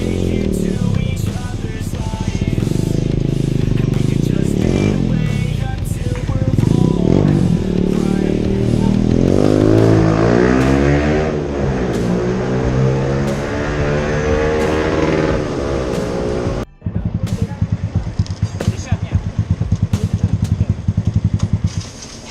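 A Yamaha SZ 150 motorcycle fitted with an Akrapovic full exhaust system revs loud and close, its pitch rising and falling through several blips, then settles into a fast, lumpy idle.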